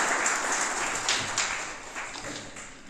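An audience at a formal welcome event claps together in a dense, lively burst of applause that gradually eases off near the end, with no one speaking over it.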